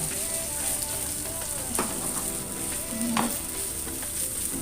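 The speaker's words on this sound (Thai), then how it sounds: "เจ๊ก็ ทำเลยผัดแบบนะ ค่อยผัดผัดผัดผัด" Loud, continuous sizzling of food frying in a hot pan, with occasional scraping strokes of a utensil stirring.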